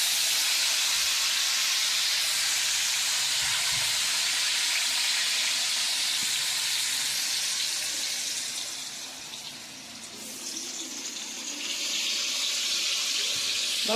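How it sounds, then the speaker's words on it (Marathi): French fries fry in oil in a kadhai, a steady close hiss of bubbling oil that runs throughout, dipping briefly in loudness near the end before rising again. "त्यामुळे आपण आता ऑइलवर बनवूया, कढईमध्ये."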